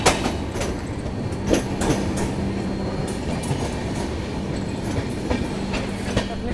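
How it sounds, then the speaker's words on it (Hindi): Avadh Assam Express passenger train running at speed, with a steady rumble and rhythmic clickety-clack of wheels over rail joints heard from inside the coach, continuous and fairly loud with no talk. "ट्रेन भी अच्छी खासी रफ्तार में चल रही है"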